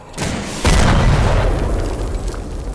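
A loud, close burst of video game gunfire with a heavy booming blast, followed by a sustained rumbling wash of noise.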